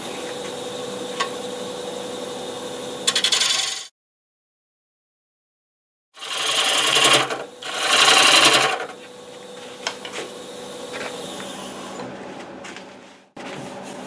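Bowl gouge cutting a macadamia wood bowl spinning on a lathe, a steady rough scraping hum with a cut-off gap, then two louder bursts of cutting before the continuous turning resumes.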